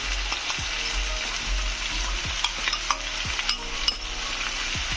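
Onions sizzle in hot oil in a home kitchen, a steady frying hiss broken by sharp scrapes and clinks as a utensil stirs the pan, close up and with no talk.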